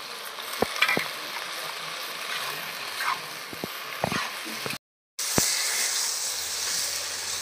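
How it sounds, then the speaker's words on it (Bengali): Vegetables with turmeric and a little water sizzle and hiss in a pan, stirred now and then with scraping taps, a steady frying bed throughout with a brief dropout near the end. "অল্প সামান্য জল দিয়ে কষিয়ে নেব।"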